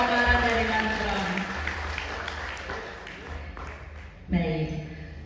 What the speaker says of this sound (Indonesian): Tepuk tangan dulu dong yang meriah buat paparan dari Mas Bram.